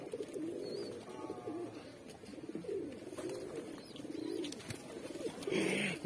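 Pigeons cooing close by in a loft, soft repeated low coos with some rustling and faint chirps, and no talk.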